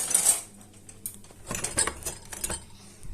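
Metal spoons clink and rattle as someone rummages through cutlery looking for one, a sharp burst at first, then scattered light jangles close by.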